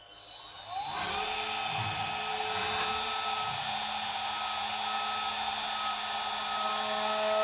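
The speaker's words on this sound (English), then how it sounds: "tool is changed for a 45-degree chamfer end mill, already touched off. So press play and let's machine some chamfers" A CNC machine cuts wide chamfers with a 45-degree chamfer end mill, spiraling down into holes in halberd pieces, giving a loud, steady high-pitched whine that rises in after the first second and holds without pause.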